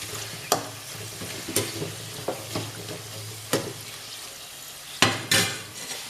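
Dried cluster bean vathal crackles as it fries in hot oil, a steady sizzle broken by sharp clinks of a spoon or ladle stirring against the pan, close and with no voices.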